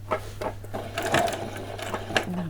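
Sewing machine stitching small doll-sized jeans, a close, steady mechanical whir with rhythmic needle thumps, stopping and starting in short bursts over a low hum.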